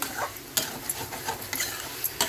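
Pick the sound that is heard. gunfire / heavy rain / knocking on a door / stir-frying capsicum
stir-frying capsicum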